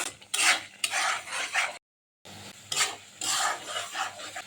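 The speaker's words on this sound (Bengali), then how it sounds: "লবণ, হলুদ গুঁড়ো, মরিচ গুঁড়ো, গুঁড়ো নাড়াচাড়া করে মিশিয়ে নেব" Salt, turmeric and chili powder are stirred into spices in a pan for a country chicken and mung dal dish, with rasping scrapes in bursts and a brief silent gap in the middle.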